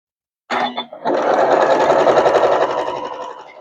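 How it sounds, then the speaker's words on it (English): After a short start-stop, a sewing machine runs in one steady, close, loud whirring stretch as quilt pieces are stitched together. "And sew this together."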